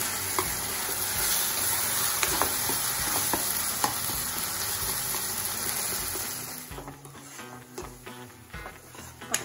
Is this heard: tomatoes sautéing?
yes